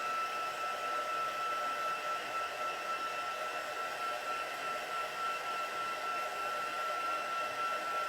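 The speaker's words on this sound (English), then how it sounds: "I'm just going to give this a quick blast with my heat tool so I don't smear it" A heat tool blasts air over a freshly inked Christmas card, giving a continuous, steady whirring blow with a high tonal whine, close and unbroken throughout.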